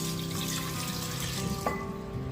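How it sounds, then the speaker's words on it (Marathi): Water poured over raw mangoes in a vessel, a steady running splash that continues through the short stretch with a brief clink near the end. "कैरी एका मध्ये टाकून त्यामध्ये अर्धा तांब्या पाणी टाकून"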